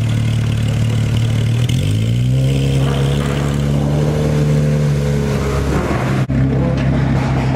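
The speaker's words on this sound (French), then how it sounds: "Je m'attendais à ce qu'il accélère plus fort que ça." A supercar on a road tour accelerates close by, its engine note rising steadily in pitch for several seconds, then it briefly drops off and picks up again, loud and continuous.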